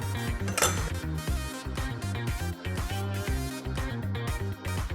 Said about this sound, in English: And now I'll roughly chop the shallots.